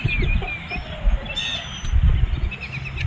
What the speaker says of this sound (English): There you go, chickens.